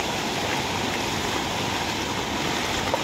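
Typhoon floodwater rushes across land near a rice field, making a steady, broad roar of moving water with no breaks, heard up close and alone.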